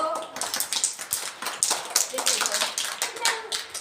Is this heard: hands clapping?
yes